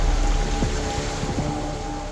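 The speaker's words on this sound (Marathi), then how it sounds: "पण इथे भरपूर पाऊस चालू आहे" Heavy monsoon rain pours down in Mumbai, a dense, steady roar of water hitting surfaces with a low rumble underneath, continuous and loud with no voices.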